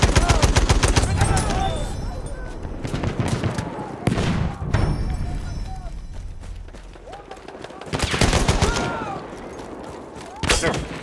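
Gunfire in a shooter video game rattles in heavy automatic bursts and single sharp shots, loud and close, with battlefield noise and voices in between.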